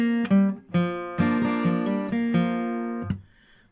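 Acoustic guitar picks a bluegrass melody phrase, a run of plucked single notes ringing clearly and alone before fading out.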